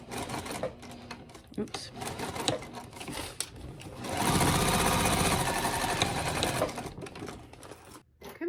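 Home sewing machine stitching an L-shaped line on a fabric crossbody bag, steady whirring runs that stop and restart, with a longer louder stretch in the middle, while someone talks over it.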